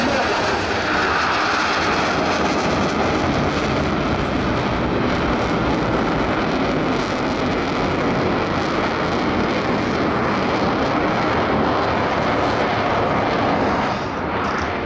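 A Eurofighter jet roars past at about 700 km/h during an air show display, a steady, loud, broadband rush that holds for the whole stretch, easing slightly near the end.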